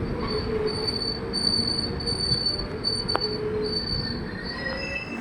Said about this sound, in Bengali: তো ট্রেন এখন এসে পৌঁছালো এই জার্নির প্রথম স্টেশন কাটুয়া জংশন।